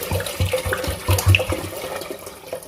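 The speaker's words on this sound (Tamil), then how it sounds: "இப்போ கஷாயத்துக்கு தேவையான அளவு தண்ணி விட்டுக்கலாம்" Water splashes and gurgles as it is poured into a clay pot on a stove for an herbal kashayam, with uneven pulses of liquid close by and no talking.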